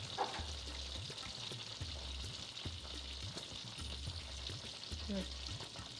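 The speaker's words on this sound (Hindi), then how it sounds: "बैंगनों को फ्राई कर दें।" Eggplant pieces fry in a pan for baingan masala with a soft, steady sizzle. Faint low thumps recur at a regular beat beneath the frying.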